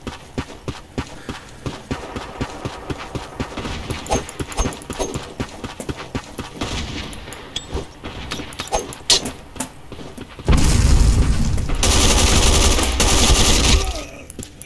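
Gunfire in the online shooter Black Squad, scattered sharp shots and bursts over busy game noise, ending in a loud sustained rush of sound near the end, with no talk.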